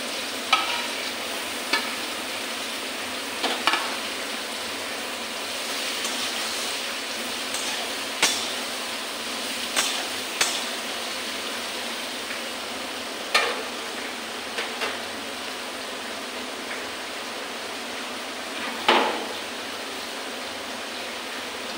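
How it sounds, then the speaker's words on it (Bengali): Young jackfruit coated with turmeric and salt fries in a pan over a gas flame. A steady, soft sizzle runs throughout, broken by periodic scrapes and clinks of stirring, with no voices. "গ্যাসটা কমিয়ে ভাজা ভাজা করে নেব।"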